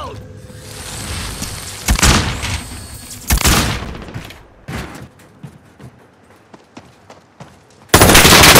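Grenade thrown in Call of Duty: Modern Warfare amid a firefight: several heavy booms and bursts of gunfire, scattered clicks and shots, then a sudden loud blast at the end, close and intense.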